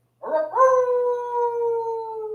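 A dog howls once, a long, loud, close, sustained howl that rises briefly at the start and then holds steady with a slight downward drift, heard alone.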